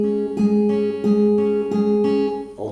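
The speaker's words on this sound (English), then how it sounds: "so this last bit sounds like this." Fingerpicked acoustic guitar playing the closing phrase of a song's intro, evenly spaced plucked notes ringing close and clear, ending in a brief scrape.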